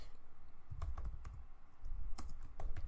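Close keystrokes on a computer keyboard come in short, irregular clusters of soft clicks and taps, quiet with no talking.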